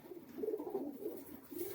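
Soft, throaty cooing from Madras dobaj pigeons, a few low warbling phrases near at hand with nobody speaking.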